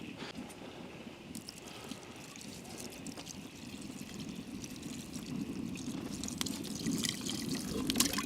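Water is poured into a pot over a campfire on a rainy day, giving a faint, continuous trickling wash that grows a little louder toward the end.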